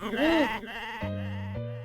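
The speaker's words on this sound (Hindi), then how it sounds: "कौवे नहीं, बकरी करती है।" Goat bleating in a short, loud, wavering call, followed by a sustained nasal held tone, heard alone without talk.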